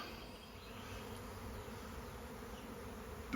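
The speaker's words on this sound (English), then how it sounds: "3 days ago, I caught a swarm in my swarm trap. And now look. They can't be swarming again." A swarm of honeybees buzzes around a swarm trap, a continuous, moderately faint droning hum that rises slightly at the end.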